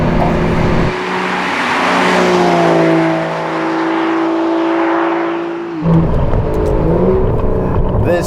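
An Aston Martin DBS Superleggera's twin-turbo 5.2-litre V12 engine revs loudly and holds a rising, droning pitch, then drops abruptly as it shifts, close and roaring throughout.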